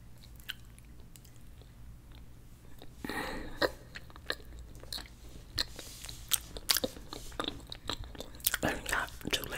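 A Moon Pie with soft cookie, chocolate coating and two layers of marshmallow is eaten close to the microphone, giving repeated soft bites and moist chewing clicks, growing busier over time, with quiet whispering between.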